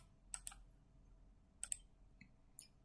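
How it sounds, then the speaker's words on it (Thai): A computer mouse clicks several times at close range in a quiet room, in quick pairs separated by short pauses. "เราจะเอาเมาส์ไปคลิก"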